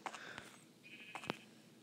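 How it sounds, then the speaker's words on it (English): A sheep bleats in the Minecraft video game, two short nasal calls with a pause between them, fairly close and clear over a quiet background. "Now we just need this stupid sheep to eat"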